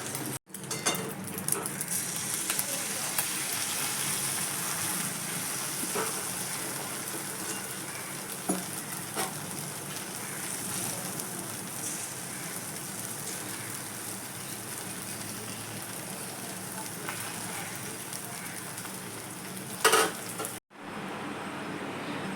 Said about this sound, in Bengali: আর ডিমের অমলেটটা এখন আমি করে নিচ্ছি